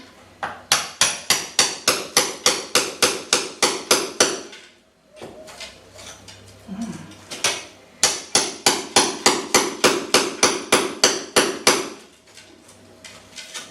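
A hammer knocks polystyrene off a kitchen wall in two loud bursts of rapid, evenly spaced blows, about a dozen sharp knocks each. A quieter gap of scraping and shuffling sits between the bursts.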